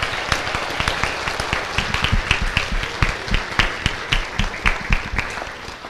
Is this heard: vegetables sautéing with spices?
no